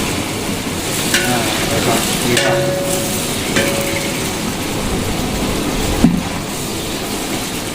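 Mint, coriander and fenugreek get stirred into a sizzling chicken biryani masala, a steady close fry with occasional clinks and scrapes of a spoon against the pot, no talking.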